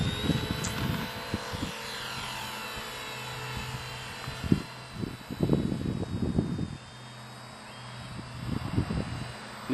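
A Parkzone Ultra Micro T-28 model airplane flies outdoors in gusty wind, its small electric motor whining faintly at a distance while wind buffets the microphone in repeated low rumbling bursts.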